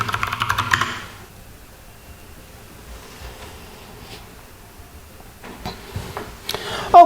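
Brief burst of computer keyboard typing to log in after an elementary OS install, a quick close flurry of key clicks at the start, then near silence with faint clicks toward the end.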